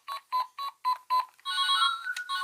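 A phone rings in a series of evenly spaced electronic chirps, five short bursts followed by a longer warbling ring tone, clear and fairly close.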